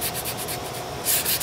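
Wood stock for a colonial kit is sanded with a steady, close, continuous rasping rub that swells slightly louder near the end, with no talking.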